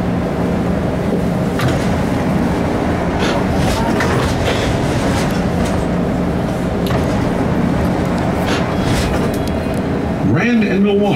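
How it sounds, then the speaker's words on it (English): A CTA Blue Line subway train runs through a tunnel at night, a steady loud rumble and clatter of wheels on rail heard from inside the car, with faint squeals and no talking. "This is a blue line train to O'Hare."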